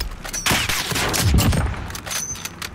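Call of Duty Warzone gunfire sounds as a quick burst of rapid, sharp shots followed by a few scattered reports, loud and close in the game mix.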